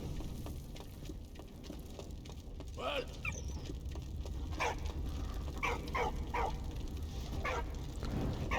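A dog in the Valiant Hearts war game gives several short yips and barks over a steady low rumble of background noise. The calls come in scattered bursts and sound fairly clear.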